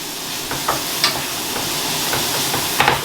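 Meat frying and sizzling in a hot pan while being stirred during home meal prep, a steady hiss with a few scraping stir strokes close by and no talking.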